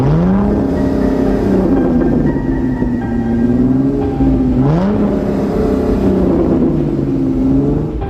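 Several cars start up and pull away, making a steady, loud engine whir with two rising pitch sweeps as they accelerate. The sound runs continuously and close throughout, with no talking.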